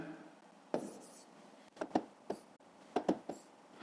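Pen or pencil writing digits on paper during a fifth-grade math lesson on dividing 3 by 4, with short scratchy strokes in a few bursts, close and quiet, no talk over it.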